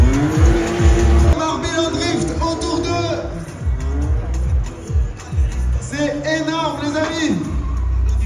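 Radio-controlled model cars racing in a convoy, buzzing electric motors whining up and down in pitch as they pass close by, with people talking over the steady, loud racket.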